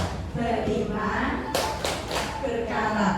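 Audience clapping along to a school vision clap routine in a teacher dissemination session, a few sharp percussive claps over a murmur of room noise and voices.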